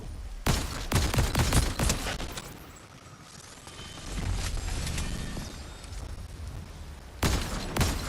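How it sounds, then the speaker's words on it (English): Rapid bursts of gunfire in the video game Fortnite, loud and close, come in clustered volleys at the start and the end, with quieter, more distant shooting between them. "these motherfuckers are really trying to shoot me right now"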